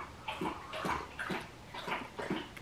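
A dog lapping water from a bowl indoors, with repeated wet splashing laps in a steady rhythm, fairly close and moderately loud, with no talking over it.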